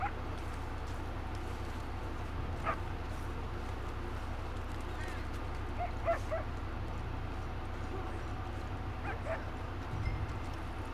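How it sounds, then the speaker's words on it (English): In the video game Red Dead Redemption 2, a dog gives several short distant barks and yips spread across a quiet outdoor ambience, with some faint talk nearby. "I keep hearing a dog."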